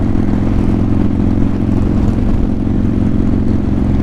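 A dense, continuous engine drone from a large group of motorcycles riding together at a bike blessing rally, loud and close with a steady low rumble and no talking.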